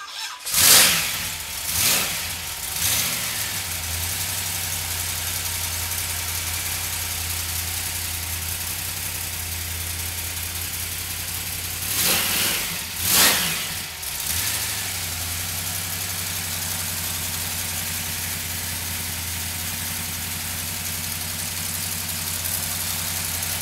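A 1953 GMC five-window pickup engine cranks and fires, settling into a steady, rumbling idle, then is restarted about twelve seconds later with another crank and catch before idling evenly again, close and loud.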